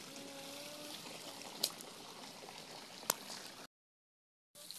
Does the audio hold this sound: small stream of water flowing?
yes